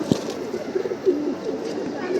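A male pigeon at a home loft coos in soft, low, repeated calls, close by but faint, with a brief louder sound near the start.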